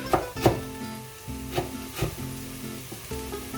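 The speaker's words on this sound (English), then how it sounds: "we'll reduce the mushrooms, the onions, until they're nicely cooked through" Mushrooms and onions cook in a pan for a prawn pasta meal, giving a soft continuous sizzle broken by repeated scraping stirs and knocks of a utensil against the pan, close by and with no talk.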